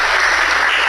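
Dense, steady applause from a seminar audience after a presentation on chronic kidney disease treatment, a continuous hiss of many hands clapping close by for the full second with no talk over it.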